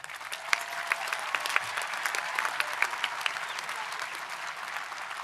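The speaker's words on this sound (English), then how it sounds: "please give a round of applause for all those in attendance this evening." Steady applause from a large crowd at an evening high school commencement held outdoors on a field. Many hands clap continuously at a moderate distance, dense and even throughout.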